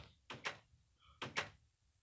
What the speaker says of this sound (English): Now I want to close the door